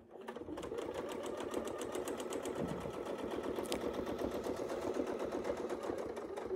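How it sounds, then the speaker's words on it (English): A sewing machine quilts along a curved template with a rapid, even mechanical chatter of the needle, steady and moderately close throughout. "So I think I'm sewing a little too far."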